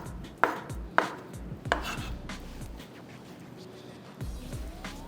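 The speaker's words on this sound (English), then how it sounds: "I'm going to just cut my soya chops and going to be putting it inside here." A knife cuts through soya chaap pieces with a few sharp, close chops, separated by short pauses, over quiet kitchen background noise.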